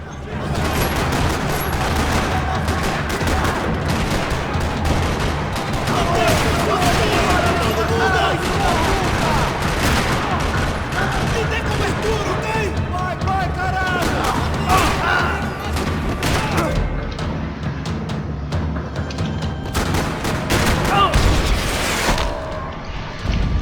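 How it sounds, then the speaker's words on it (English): Continuous, dense gunfire from the video game Max Payne 3 crackles and rattles throughout a parking lot, with bursts of automatic fire and occasional booms layered over a busy, loud background. "Another parking lot rattling with gunfire."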